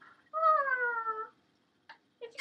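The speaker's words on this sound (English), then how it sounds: "It's a kitty! Kitty!" A cat gives one drawn-out, clear meow, followed after a pause by two short, softer chirping calls, close and alone in a quiet room.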